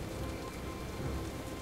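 Steady rain pours during a storm in the Jurassic Park video game, a dense, even hiss of drops on surfaces heard alone at a soft, constant level.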